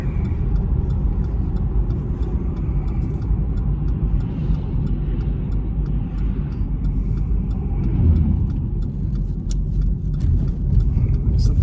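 A Cadillac CTS-V with over 600 horsepower drives along, its engine rumbling steadily and loudly from inside the cabin, with a slight swell toward the end while people talk over it.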